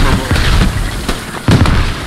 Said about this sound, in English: This is the craziest mortar strike I've ever seen.